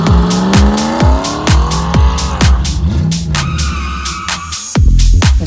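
A fast car revs hard with rising engine whine and squealing tires, loud and close, layered with a pounding music beat in a rap track.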